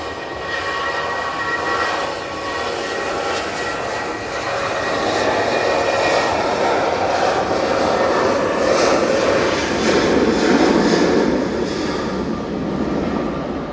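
An EasyJet airliner out of Liverpool passes overhead, a sustained engine rumble and hiss that swells toward the middle and stays loud, with no voices over it.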